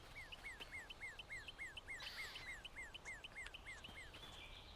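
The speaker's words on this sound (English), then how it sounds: "Bird noises." Birds in the video game South of Midnight give a rapid, steady series of repeated chirping calls over soft ambient hiss, faint and continuous with no talking.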